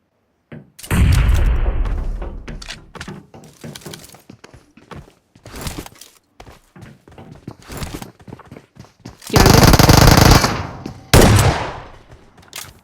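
A grenade explodes in the mobile battle-royale game PUBG Mobile, a loud broadband blast with a long rumbling tail, followed by scattered sharp pops and clicks and two more heavy booming bursts near the end.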